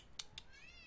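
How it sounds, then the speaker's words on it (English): A cat meows indoors, a faint, brief cry with a couple of short clicks before it, heard quietly in the background. "Oh no, the cat, it's crying."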